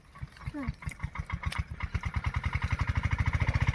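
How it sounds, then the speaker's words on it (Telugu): A water pump engine in a maize field cranks and catches, settling into a steady rapid chugging idle that speeds up slightly, fairly close and loud. "ఎవరు ఇంజన్ స్టార్ట్ చేసిండ్రు"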